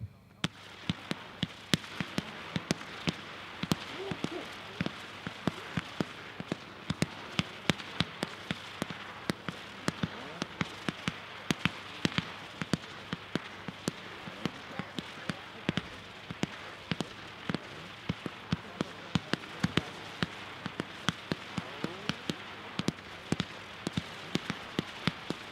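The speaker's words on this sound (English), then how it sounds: "number 2 is the 500 gram Go-Getter by 76 Pro. Packed 4-1, 49 shots." Two 76 Pro 500-gram Go-Getter firework cakes with 49 shots each are fired together, giving a long run of rapid, sharp pops and crackles. The bursts come at an uneven rhythm and sound somewhat distant.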